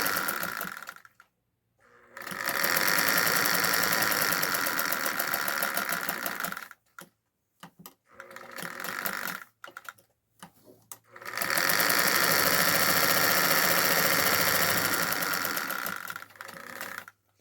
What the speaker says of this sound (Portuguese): Eu vou costurar o meio do dedo, só o meio.